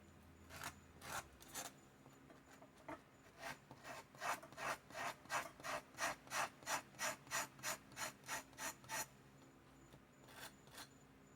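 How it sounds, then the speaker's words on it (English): Steady back-and-forth rubbing of a sanding block on wood, a series of rhythmic scratchy strokes that speed up into an even run, then pause before a few final strokes. "Now I have my little piece of sanding block."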